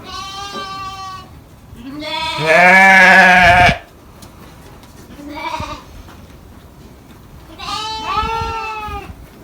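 Sheep in a new barn bleat in several loud, drawn-out calls separated by short pauses, one long cry standing out in the middle, with no voices heard.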